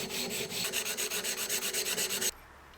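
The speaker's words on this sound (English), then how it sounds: "we got that lower thrust bearing sanded down" Lower thrust bearing from a Toyota Hilux engine rebuild being sanded down by hand: about fifteen quick, even rasping strokes, close and steady in rhythm, then an abrupt stop into near silence.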